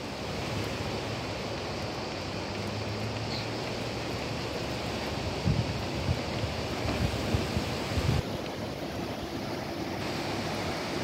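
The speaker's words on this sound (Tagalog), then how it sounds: "Ayan, kita nyo lagaslasan. Pababa ang tubig sa pababa." Water rushes steadily down a mountain stream, a dense, even wash of noise with a few louder splashes near the middle, with no voices over it.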